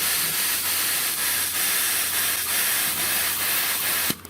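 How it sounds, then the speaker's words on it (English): A steady, loud freezer spray hiss sprays continuously for several seconds onto a 3D printer socket, then cuts off abruptly, followed by a small click. "you can literally just spray on the socket."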